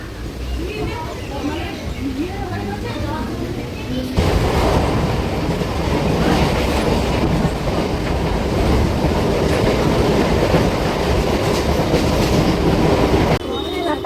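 A train rumbles along steadily with a rhythmic clatter of wheels, loud and close, while people talk underneath the noise.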